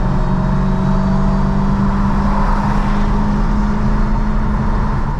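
Dodge Hellcat with 914 bhp accelerating in race mode, a steady, loud engine drone with a sustained low hum heard from inside the cabin, no gear changes.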